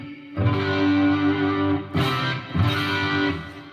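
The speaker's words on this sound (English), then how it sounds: "let's check out this reverb here" Electric guitar played through a Headrush reverb effect: sustained distorted chords ring out with a long, washy tail, then two fresh strums restart the tone before it fades.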